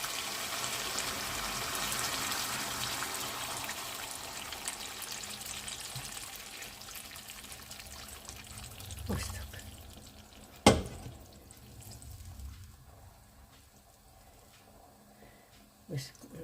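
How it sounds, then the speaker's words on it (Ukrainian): Boiling water is poured steadily into a pot with a hissing, splashing rush, then a couple of sharp clinks and quieter bubbling. "І ось тепер ми додаємо сюди окріп."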